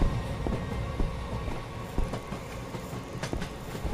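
Train rolling along in a video game, a steady rumbling run with repeated rhythmic clacks and knocks, fairly loud and continuous with no talk.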